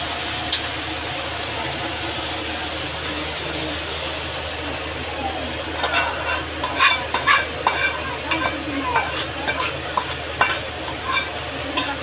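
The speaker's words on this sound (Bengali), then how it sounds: "তরকাটা এবার ঢেলে দেবো।" Tarka with fried cumin poured into a pot of khichdi, giving a steady sizzle with stirring and scraping that turns busier and more crackly partway through, heard up close.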